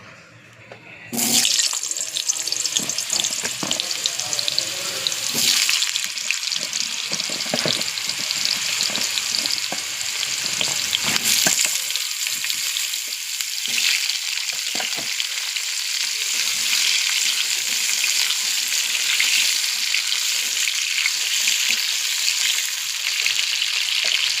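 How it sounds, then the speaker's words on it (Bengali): Potato pieces fry in hot oil for a potol kurma, a steady loud sizzle running throughout with occasional stirring clinks and no talking. "আমি এবারে আলুগুলোকে একটু লাল লাল করে ভেজে নেব"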